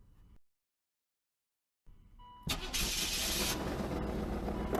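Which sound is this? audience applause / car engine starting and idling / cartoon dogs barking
car engine starting and idling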